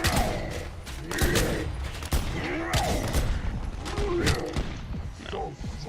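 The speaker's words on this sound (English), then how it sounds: "Using hand cannon." Sharp gunshots from a hand cannon in Black Ops 6 zombies crack at irregular intervals over a busy, clattering game soundtrack.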